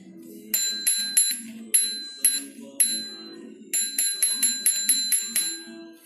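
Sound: bicycle bell ringing

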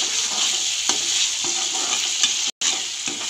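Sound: frying and stirring masala for chicken kofta curry

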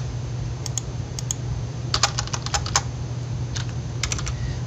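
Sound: typing on a computer keyboard

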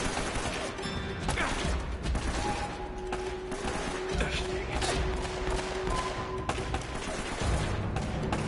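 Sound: enemy gunfire in Uncharted video game

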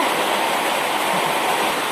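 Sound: heavy rain

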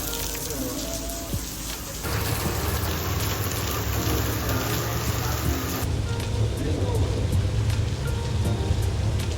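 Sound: heavy rain

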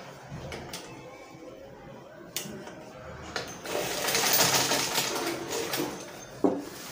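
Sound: sewing machine stitching hem of Ankara joggers

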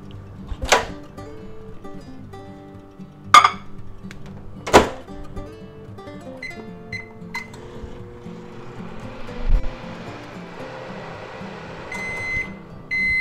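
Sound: microwave oven running

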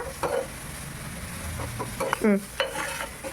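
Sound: curry leaves sizzling while frying in oil

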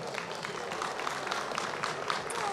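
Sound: audience applause

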